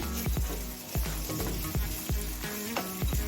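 Garlic paste fries hard in a hot pan, a loud crackling sizzle broken by repeated thumping stirs and scrapes in an uneven rhythm.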